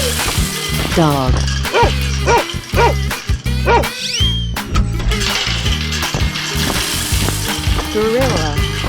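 A cartoonish dog in a 3D animal slide game barks and yips repeatedly in short loud bursts over busy game music and sound effects.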